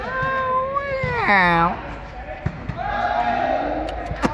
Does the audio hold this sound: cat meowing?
yes